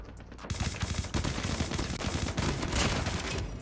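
The Chicom gun in Call of Duty Mobile fires in rapid bursts, a steady rattle of close shots that carries on throughout at moderate loudness.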